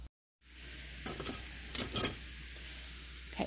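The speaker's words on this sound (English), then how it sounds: "we're going to let these fry up for about 5 more minutes" Vegetables frying in a pan alongside a meatloaf dinner being cooked: a quiet, steady sizzle broken by a few soft stirring scrapes and clicks, heard close with no one talking.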